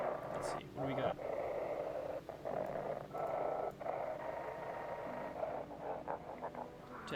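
Cat purring in the game No, I'm Not A Human, a steady low rumbling purr running throughout, close and continuous with brief dips.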